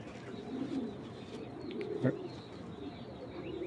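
Racing pigeons coo outdoors, a soft throaty call rising out of a busy open-air background with faint chirps and a short thump partway through.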